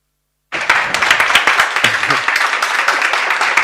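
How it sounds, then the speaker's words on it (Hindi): An audience claps in a dense, steady burst of applause that starts suddenly and continues at even strength to the end, with brief voices briefly audible inside it. "आप लोगों ने तालियां बजा दी"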